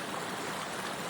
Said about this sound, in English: We're starting to fill our water bottle